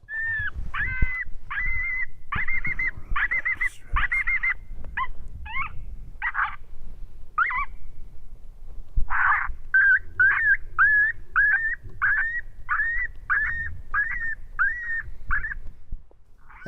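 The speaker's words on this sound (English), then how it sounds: "I'm going to go right to the pup distress and let her rip." Electronic predator caller blaring a coyote pup distress call in the badlands at dusk, a loud series of repeated high yelping whines and squeals, continuous and close, with short gaps between bursts.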